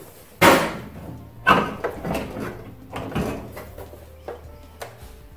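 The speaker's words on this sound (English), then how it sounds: "I'll remove the door and readjust the hinges slightly." Removing the door of a Frigidaire FFMV164LSA microwave and readjusting its hinges: a series of close metallic clunks and knocks, the first two loudest, followed by lighter rattles and taps at irregular intervals, with no talking.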